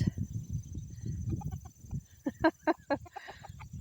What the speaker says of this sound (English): He is an Americana rooster, and he is trying to feed me right now.